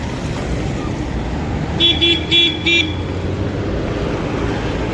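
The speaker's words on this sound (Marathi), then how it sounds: "हायवे रोडच आहे त्याच्यामुळं भरपूर वाहन असं आहे" Highway traffic with a steady roar of passing vehicles, broken midway by a few short, repeated horn toots, loud and close.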